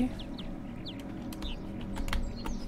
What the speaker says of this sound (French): Bonjour les petits oiseaux.